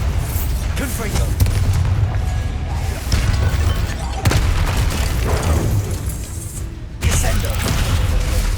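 Repeated fiery spell blasts in Hogwarts Legacy, with a dense, roaring barrage of booms and crackling bursts that keeps going throughout, loud and close, with a few sharp breaks between volleys.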